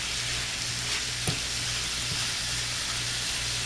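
Mushrooms cooking in a pan for chicken and rice, giving a steady, dense sizzle throughout with a faint low hum beneath and a couple of brief ticks.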